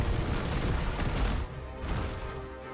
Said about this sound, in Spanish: La explosión esa